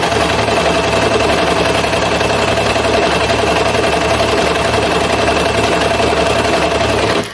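A serger fitted with a gathering foot stitches and gathers fabric in one pass, a loud, steady mechanical whir with a fast rhythmic chatter running unbroken close by, then stopping abruptly at the end.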